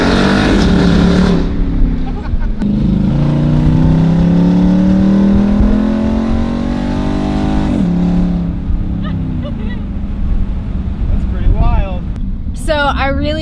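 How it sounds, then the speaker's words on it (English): A loud, steady exhaust drone from a Jeep SRT8 engine, low and constant, with a person talking over it throughout. "it sounds awesome, but because it's right under my rump, it's like the drone is so loud."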